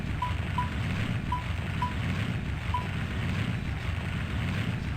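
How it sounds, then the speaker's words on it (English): Loud, steady crackling fire from the video game Grandia HD fills the scene with dense broadband noise, with a few short, quiet tonal blips over it and no talking. "Why is the fire so loud?"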